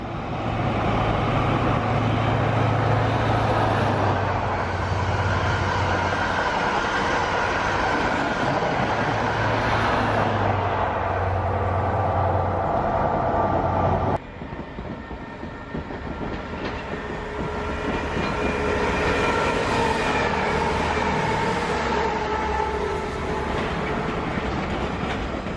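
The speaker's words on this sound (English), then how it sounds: "Another HST coming up." A High Speed Train (HST) passes Ealing Broadway station in London with a loud, sustained rumbling roar and wheel clatter that briefly dips partway through, then swells again and carries on for the whole stretch.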